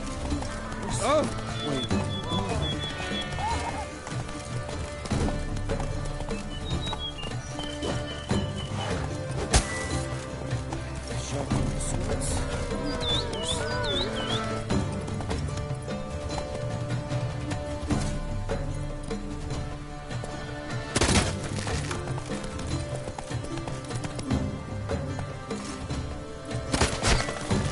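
Roach, the horse in The Witcher 3: Blood and Wine, gallops with rhythmic clip-clopping hooves throughout, snorting and whinnying now and then, while a man briefly exclaims over the hoofbeats.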